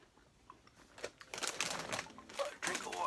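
A soy sauce flavored Japanese snack is crunched close up in a quiet room, giving a run of crisp, crackly bites and crinkles that grow louder and come in uneven bursts, with no talk.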